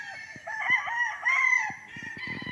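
A rooster crows loudly nearby on a fenced game farm lot in Pagsanjan, Laguna, with a second crow following, while chickens cluck and scratch in short bursts around it.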